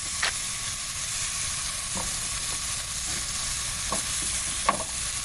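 Vegetables for an omelet sauté in a pan, giving a steady close sizzle with occasional soft scrapes of stirring.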